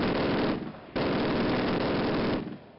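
Sustained machine gun fire in a Call of Duty campaign battle rattles loudly and continuously at close range, breaks briefly, then resumes in a long rapid burst before cutting off.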